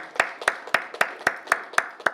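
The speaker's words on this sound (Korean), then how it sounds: "하나님께 감사와 영광의 박수를 올려드리겠습니다." A church congregation at a Friday all-night service clapping together in an even rhythm, eight crisp, evenly spaced claps at a brisk steady tempo with nothing else between them.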